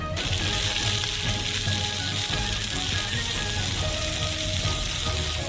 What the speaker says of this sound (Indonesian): Goreng daging babi terlebih dahulu.